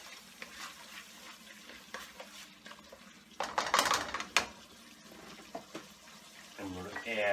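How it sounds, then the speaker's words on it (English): A spoon stirs a pinch of turmeric powder into a pan of chicken kofta curry, giving a run of soft scraping and clinking against the metal over a low sizzle, with a louder burst of stirring midway. "Next thing I'm going to add is a pinch of turmeric powder. Give it a quick mix."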